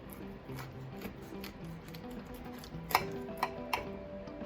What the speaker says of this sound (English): And that's just a little steak knife. It's very easy to cut even through the bone.